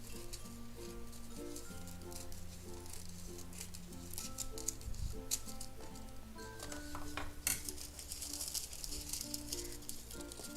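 Gold foil sheet being cut with scissors at a crafting table, soft crisp snipping and crinkling under continuous background music with faint voices.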